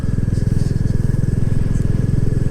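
A Royal Enfield Classic 350 single-cylinder motorcycle rides along a tree-lined avenue toward the Olivers Mount race circuit, its engine a steady, loud, rapid low thump throughout with no pause.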